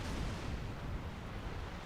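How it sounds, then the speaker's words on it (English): Rolling cannon fire from a ship of the line's broadside in Napoleon Total War, 55 guns on one side going off gun by gun down the line, a dense continuous rumble of booms with no talk. "Although it's firing gun by gun, going down the line. Just laying in cannons on it."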